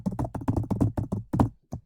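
Quick, irregular bursts of keystrokes on a computer keyboard, fairly loud and close, with short pauses between clusters of taps.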